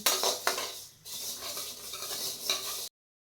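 Fenugreek seeds roasting in half a spoon of oil in a pan for a spice masala, a close hissing sizzle with metallic scraping and clinking of a spoon, cutting off abruptly near the end.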